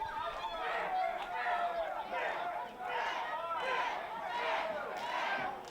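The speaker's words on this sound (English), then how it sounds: "You can hear the crowd chanting his name." A wrestling crowd at a Wrestlemas show chants a wrestler's name in steady rhythmic pulses, a dense roar of many voices that fills the arena.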